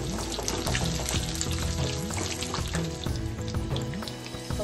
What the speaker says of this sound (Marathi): व्यवस्थित असं आपण त्याला आता फ्राय करून घेऊया।